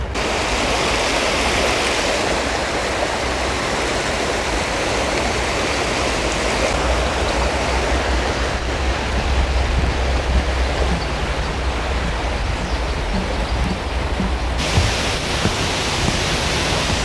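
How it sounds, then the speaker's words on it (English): A six-metre waterfall on Oakley Creek in Auckland pours continuously, a dense, steady roar of falling water heard up close with no talking. "This 6 meter high waterfall is considered a must-see natural sight of Auckland."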